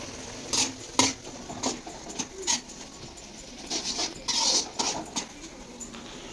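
Intermittent scraping and light metallic clinks of a utensil stirring Maggi instant noodles in a pot, irregular strokes over a faint background hiss.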